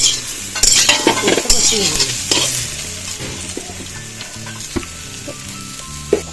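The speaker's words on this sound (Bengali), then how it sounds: "এবার লবণ আর হলুদ দিয়ে এটাকে একটু হালকা ভাজা ভাজা করে নেবো।" Soybean chunks, potato and vegetable stems fry in hot oil with salt and turmeric, sizzling loudly up close while a spoon stirs and scrapes the pan in irregular strokes.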